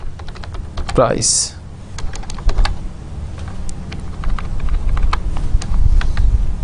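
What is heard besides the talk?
typing code on computer keyboard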